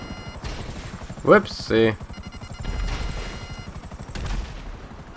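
Gunfire in GTA 5 Online during a Diamond Casino Heist mission, a few sharp bursts with a whooshing shot among steady engine or rotor drone, while a voice talks briefly over it.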